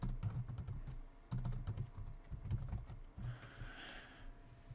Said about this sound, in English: type that domain name into your web browser